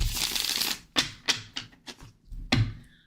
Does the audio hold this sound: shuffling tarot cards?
yes